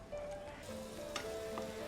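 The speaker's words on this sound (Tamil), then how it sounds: "இப்போ நம்மளுடைய ஆனியனும் கார்லிக்கும் நல்லா இதில் சாட்டே ஆகிடுச்சு" Chopped onion and garlic sautéing in a pan, a steady close sizzle with soft crackles and the occasional scrape of stirring, with no talking.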